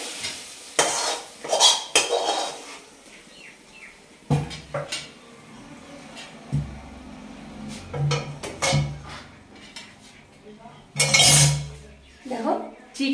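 Cooked chicken tipped out of a wok, with bursts of metallic scraping and clanking from a utensil against the pan, separated by quiet gaps and a faint sizzle, up close.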